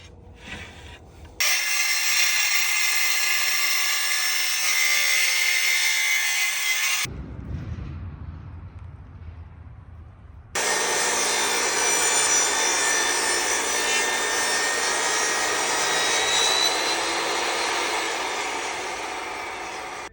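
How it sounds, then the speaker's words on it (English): A table saw rips a 45-degree bevel along the front edge of a wooden shelf board, with a loud, sustained high whine across two long cuts separated by a short spin-down pause. "Then I'll be putting this through my table saw and giving this front edge a slight bevel at a 45-degree."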